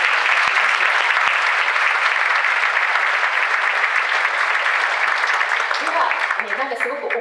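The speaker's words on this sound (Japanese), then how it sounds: "ゼルボ事務局長にも改めて拍手をお願いします。" An audience at a panel discussion with Dr. Lassina Zerbo in Japan breaks into steady applause, a full even wash of clapping that thins out near the end as a voice begins to speak.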